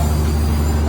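Sleeper train standing at Nha Trang station in Vietnam after the overnight run from Saigon, giving off a steady, loud low rumble of idling machinery with a constant hum and no break across the moment.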